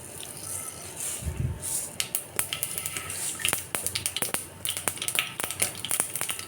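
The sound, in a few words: mustard seeds added to hot oil in a pan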